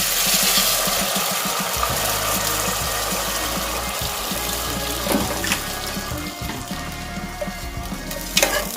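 Water poured over rice into a pressure cooker, a continuous close splashing rush over a hissing background, steady throughout with a few louder splashes near the end.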